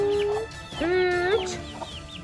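A hen clucks loudly and close by, making a few drawn-out, wavering calls. Soft peeping from chicks sits under the hen's calls.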